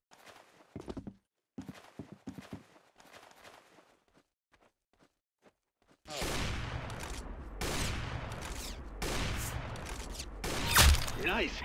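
Mobile shooter video game gunfire: sparse clicks and taps at first, then a sustained loud stretch of rapid shots and impacts with a sharp peak near the end.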